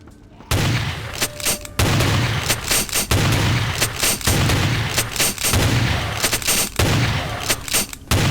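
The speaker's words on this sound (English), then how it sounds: "I'm just running around blasting people in the face with a shotgun." Shotgun blasts in Vampire: The Masquerade – Bloodlines (Final Nights mod): about a dozen loud, close, booming shots in quick, uneven succession, each with a short echoing tail, with no voices.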